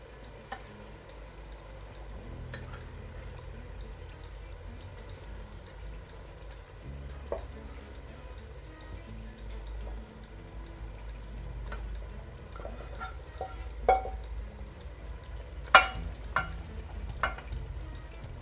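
Fried fish simmers in a pan of fish curry, giving a low continuous bubbling and sizzle with scattered soft pops and clinks that grow busier toward the end, and no voices.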